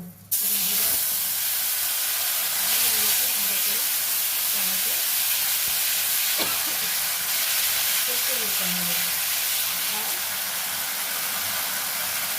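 Ground spice paste hitting a hot pan, a loud steady steamy sizzle that fills the whole stretch, with a sharp onset as it goes in and faint clinks underneath.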